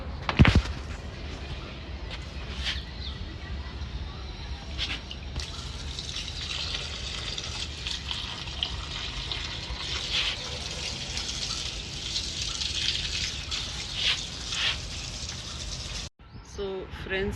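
Water poured onto dry soil in three potted plants, a steady splashing trickle running for about sixteen seconds at moderate level before stopping abruptly.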